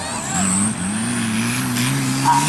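A light-class off-road 4x4 vehicle runs on a trophy race course, its engine droning and shifting in pitch at mid distance. A voice may be heard faintly alongside it.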